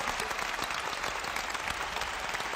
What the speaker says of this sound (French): On l'applaudit bien fort, s'il vous plaît.